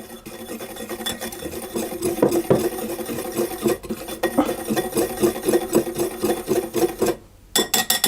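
Dry cookie ingredients with a little salt are stirred in a bowl, giving rapid, rhythmic scraping and rubbing strokes close up, with a brief pause near the end before the mixing resumes.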